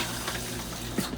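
Water rushes steadily into an RV toilet bowl on a Forest River Wildwood travel trailer as the foot pedal is pressed, a soft continuous flow heard close and alone.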